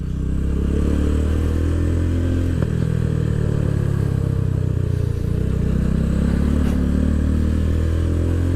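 A motorcycle engine during beginner rider training at the beach drones steadily and loudly throughout with a slight rise in pitch, with no talk over it.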